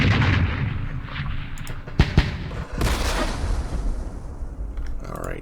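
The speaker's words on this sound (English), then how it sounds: "We have some mortars." Mortar fire in the Vietnam war game Campaign Series Vietnam, set in the Battle of Hue: a few sharp booms land close together against a rumbling battle background.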